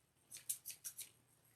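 Good scissors cutting ribbon pieces for a deco mesh Easter bunny wreath: five quick, crisp snips in a row, close and fairly quiet.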